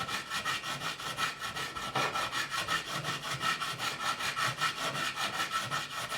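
A file is stroked back and forth over the frets of an Ibanez Prestige guitar made in Japan, a steady rhythmic rasping close up with no talk.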